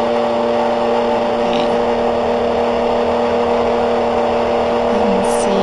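Electric motor running at full throttle on a homemade speed controller, a loud continuous steady whine with stable humming tones, unbroken and close, with no voices.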